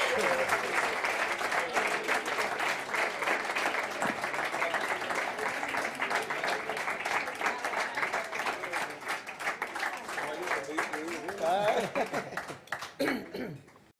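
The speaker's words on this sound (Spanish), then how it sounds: "Un fuerte aplauso para él." A jazz concert audience at Recoletos Jazz Madrid applauds a musician brought onto the stage, sustained clapping with scattered laughter and chatter, then tapering near the end.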